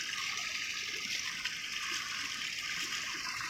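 Water runs continuously in a water feature set in the middle of a street, a soft, even rushing and trickling that stays faint and steady throughout.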